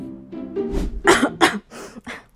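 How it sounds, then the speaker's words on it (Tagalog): A person coughs several times in quick succession, close and fairly loud, with a throaty rasp and short gaps between bursts. "Teka lang, inuubo lang"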